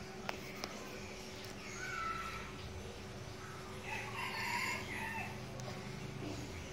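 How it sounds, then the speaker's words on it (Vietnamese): A rooster crows in a rural setting, a couple of faint, drawn-out calls over a steady background hum, with no talk. "Gáy nó siêng gáy lắm, sung lắm."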